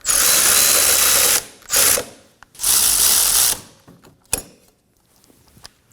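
Ratchet clicking rapidly while snugging CV axle bolts on a 2016-2020 Kia Sorento 2.4L rear axle, three loud close bursts of dense ratcheting separated by brief pauses, followed by a few scattered metallic clicks.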